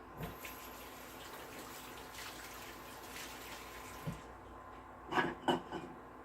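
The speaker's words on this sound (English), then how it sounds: "I'm going to rinse off my 1/2 tablespoon." A half-tablespoon measuring spoon rinsed under a running kitchen tap, a steady soft stream of water flowing at moderate distance, with a few brief clinks and splashes near the end.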